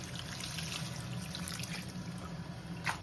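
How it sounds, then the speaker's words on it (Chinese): Laver seaweed is rinsed in water, a steady close trickle and swirl of running water with small splashes and a brief louder slosh near the end, no voices. "因為這個紫菜不是免洗的，所以我們要給它淘洗一點"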